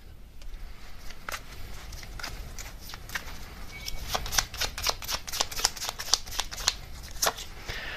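Tarot cards are shuffled by hand in a string of crisp, rapid riffling snaps, sparse at first and then a dense flurry of card flicks toward the end, close and fairly quiet with no talking.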